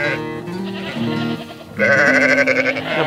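A flock of sheep and goats on a hillside nature reserve bleating close by, several overlapping calls in quick succession, one louder cry rising near the end.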